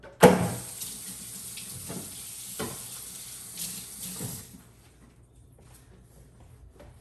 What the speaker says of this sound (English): pour out some of the water